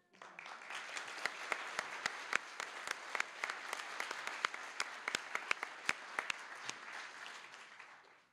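An audience applauds nursing graduates at a college pinning ceremony, with sustained clapping from a crowd and sharp individual claps standing out before it tapers off at the end.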